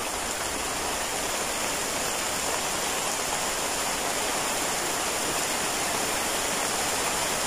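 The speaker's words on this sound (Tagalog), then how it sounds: "Lakas ng ulan." Heavy rain pours down in a dense, continuous hiss, loud and unbroken throughout with no voices.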